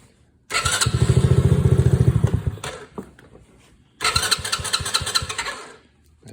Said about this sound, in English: I start the machine and just run it till it quits